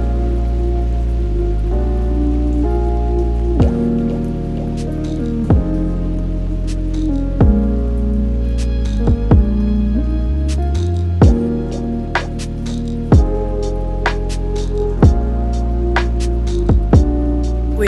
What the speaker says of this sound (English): I feel like it's raining